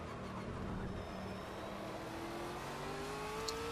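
A GT3 race car in the Project Cars racing game braking for a hairpin at Dubai International circuit: steady engine drone with falling tones as revs drop, close and continuous, no talk.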